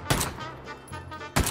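Gunfire from a shooter video game, loud sharp bursts near the start and again near the end of a short stretch, with a quieter gap of game ambience in between.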